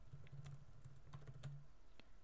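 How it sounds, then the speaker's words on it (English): Quick, irregular clatter of keys being typed on a computer keyboard while browsing a Gamefest CD on a PC, close and fairly quiet, with no talking. "I started typing wolf because I'm so used to running Wolfenstein"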